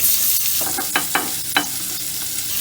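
Green chillies and a finely chopped medium onion fry in a pan for spinach pulao, a steady close sizzle broken by a few sharp spoon clicks and scrapes against the pan; no one speaks.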